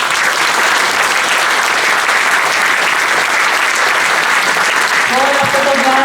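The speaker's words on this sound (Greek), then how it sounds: "Και το μεγάλο χειροκρότημα στους χοροδούς μας." Dense, sustained applause from a concert audience greets a choir at a Greek evening of songs from Cyprus and Asia Minor, loud and close throughout, with a few faint musical tones near the end.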